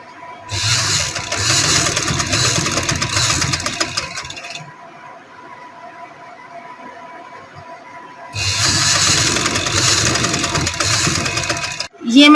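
A sewing machine stitches lace onto a kurti panel in two loud bursts of steady whirring run, with a quieter pause of low hum between them.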